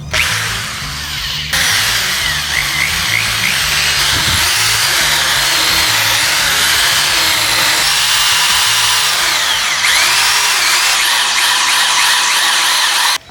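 A power drill countersinks screw holes in a metal handrail, running as a loud, continuous whine and grind close up, with a brief change in pitch near the start and slight variations as the bit bites.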